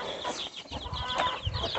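Hens cluck among other farmyard poultry, several overlapping calls in quick bursts, fairly close and moderately loud over a busy yard background.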